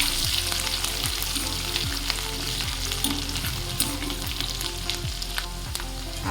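Chopped garlic and green chilli sizzle steadily in a pan while a spoon stirs through them in a regular scraping rhythm, close and moderately loud, with no voices.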